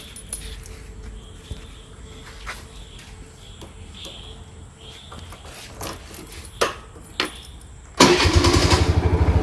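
A few faint clicks and handling sounds come before a scooter running on a replacement UPS battery starts up abruptly and settles into a loud, steady, pulsing idle close by.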